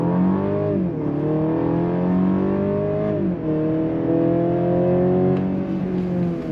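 A Mercedes-Benz GLC 300 Coupe with a 2-liter turbocharged 4-cylinder accelerates hard, its engine note climbing steadily through the gears with brief dips at each shift, loud and continuous from inside the cabin.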